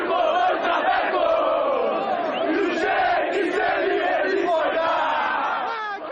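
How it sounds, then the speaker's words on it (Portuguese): São Paulo football fans singing and chanting together in the street outside the Morumbi stadium before a derby against Corinthians, a dense sustained crowd chorus that stays loud and continuous throughout. "a torcida tomar conta da rua e cantar para provocar o rival"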